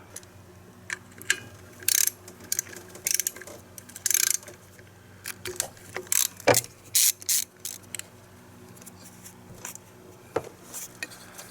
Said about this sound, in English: Now we have a 10mm bolt right here that we need to remove.